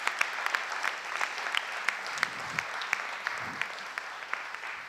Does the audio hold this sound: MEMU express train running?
no